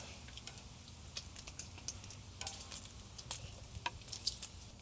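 Bacon sizzles and crackles in a frying pan, a steady hiss dotted with sharp popping spatters, close by and with no talking.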